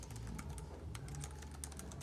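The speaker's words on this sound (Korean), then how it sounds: "가이시 키캡이라 타건감도 정말 부드럽고 안정적이에요 타이핑 많이 하는 분들도 괜찮을 거예요" Keys clatter in quick, irregular taps on a compact folding backlit keyboard with smooth keycaps, made for an iPad. The typing is soft and close, with no voices.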